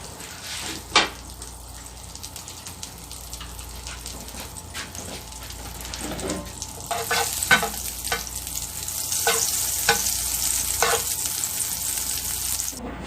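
Butter sizzling in a pan for an egg omelet, a soft steady bubbling hiss with scattered clicks and pops that grows a bit louder and brighter midway.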